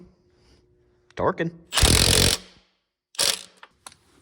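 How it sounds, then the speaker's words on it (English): Bolts being tightened on a 6.5 turbo diesel engine with a torque wrench: short bursts of harsh ratcheting and metallic clatter, close and loud, separated by quiet gaps. "I am using a torque wrench"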